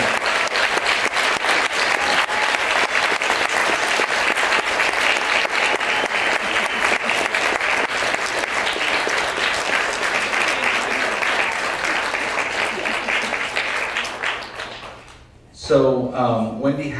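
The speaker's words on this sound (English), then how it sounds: "let's just give her another round of applause" An audience in a theater applauds loudly and continuously, a dense wash of clapping lasting about fifteen seconds before it fades and a voice begins talking over a microphone.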